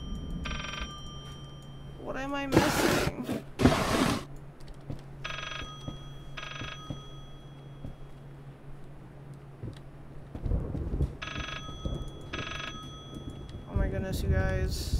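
A telephone rings in repeated short bursts inside the psychological horror game Layers of Fear, echoing through a room over low ambient rumble while someone talks and exclaims between the rings.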